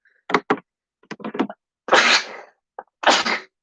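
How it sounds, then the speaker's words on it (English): A person sneezes close by: short bursts build into two loud, breathy sneezes, with nothing else heard around them. "Sorry for that sneeze."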